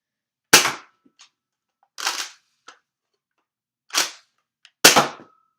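Nerf sniper Uzi springer blaster fires four loud, sharp shots spaced a second or more apart, each a crisp spring-powered crack with a short decay and small mechanical clicks in between.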